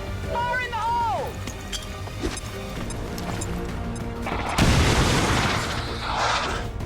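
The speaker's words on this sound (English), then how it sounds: "lobbing a bloody grenade at them" A grenade blast in the tactical video game XCOM 2, a loud crashing boom partway through that follows game effects and voices and gives way to a noisy rumbling tail.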